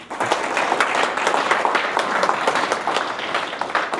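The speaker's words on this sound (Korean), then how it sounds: "교수님 다시 한번 큰 박수 부탁드리겠습니다" Applause from a forum audience for a lecturing professor, a steady dense patter of many hands clapping throughout, fairly close and even in loudness.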